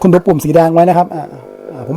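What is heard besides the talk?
No everyday noise stands out behind the speech.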